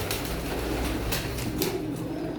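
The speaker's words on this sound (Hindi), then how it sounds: "ये गलवे कबूतर है।" A Galwa pigeon coos at close range, a soft low murmur that fills the short moment under a hissy, noisy background.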